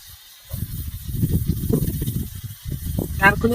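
Coconut milk poured into a hot pan while cooking a Bengali jackfruit dish, giving a steady fizzing hiss and sizzle lasting a few seconds, close and fairly loud.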